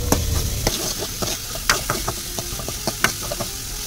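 Big and small onions sauté together in a pan, giving a low, close sizzle broken by frequent sharp scrapes and clicks of a spatula stirring them at an uneven pace; no voices are heard.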